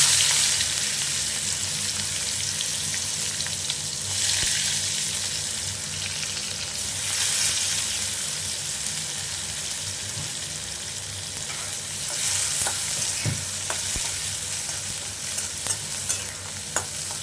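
Sliced onions fry in hot oil in a pan for a mutton biryani, a steady close sizzle running throughout with scraping stirs and clinks of a spoon against the pan, and no talking.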